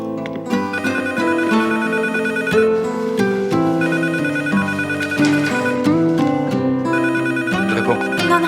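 A telephone rings with a loud melodic ringtone tune, a repeating pattern of bright tones lasting several seconds, close and dominant.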